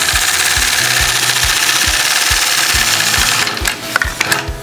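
A sewing machine stitches a curved quilting line guided by a Sway ruler, its needle thumping in a steady rapid rhythm over a constant motor hum, close and loud, then slowing and stopping near the end.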